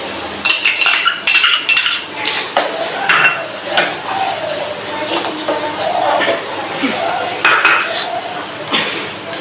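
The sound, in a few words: stirring vermicelli kheer in milk with a spoon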